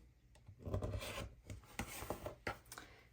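Scissors or a rotary cutter trims the leftover edges from Ohio Star quilt patchwork fabric blocks, giving a series of soft, close rasping cuts in uneven rhythm, with no talking.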